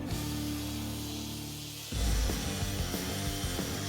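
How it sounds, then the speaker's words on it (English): Grinder cleaning up a forged blade in a forging competition, with a steady whine that shifts to a louder, rougher grinding partway through and continues without pause. "I got to get on the grinder and get the thing cleaned up."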